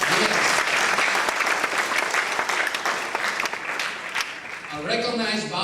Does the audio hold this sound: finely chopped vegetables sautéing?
no